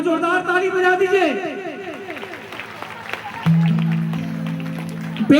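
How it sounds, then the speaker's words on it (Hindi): An audience claps loudly at a devotional gathering, with a broad wash of applause mixed under a speaking voice, followed by a sustained musical drone in the second half. "एक बार जोरदार ताली बजा दीजिए"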